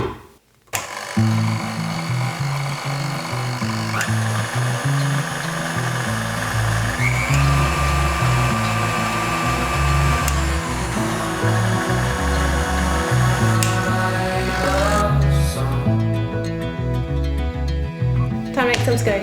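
A new KitchenAid stand mixer running empty with no attachments fitted, a loud steady motor whir with a regular pulsing rhythm, close up, shutting off near the end.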